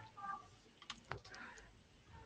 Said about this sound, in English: Bron, if you're typing, you might want to mute yourself.